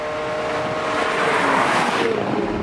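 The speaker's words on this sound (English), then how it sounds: "385 horsepower out of a nearly 5-liter flat 12 engine" Ferrari Testarossa with a nearly 5-liter flat-12 engine producing 385 horsepower, a loud rising roar as the car accelerates past, with wind buffeting mixed in.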